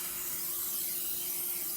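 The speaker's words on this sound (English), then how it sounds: "first we're gonna spray our baking dish" A short, steady hiss of cooking spray from an aerosol can onto a baking dish, close and fairly quiet, lasting under two seconds with no other sounds.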